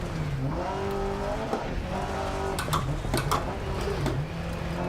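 A rally car races a gravel stage in DiRT Rally 2.0, its engine loud and close, rising and dropping in pitch with gear changes, with brief tire scrabble and skidding over the loose surface.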